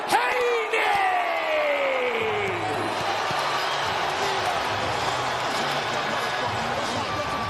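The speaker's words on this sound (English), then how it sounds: "This sold-out crowd is on fire. It is buzzing in here for Haney Loma" Sold-out arena crowd at the Haney vs Lomachenko boxing fight in Las Vegas, a loud steady roar filling the whole clip, with ring announcer audio sweeping downward in the first seconds.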